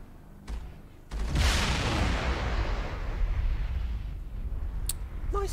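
A loud explosion booms in the video game Mass Effect and swells into a long, rumbling roar that lingers for several seconds, followed by faint electronic blips.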